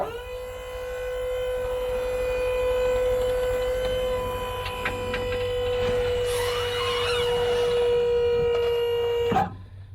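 A tow truck's wheel lift lowering: a steady, loud mechanical hydraulic whine with a sustained tonal hum, holding through most of the stretch before cutting off with a brief knock at the end.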